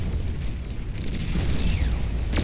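A nuke blast in the real-time strategy game Beyond All Reason, a dense, steady low rumble with crackling explosion texture running throughout, loud and with no speech over it.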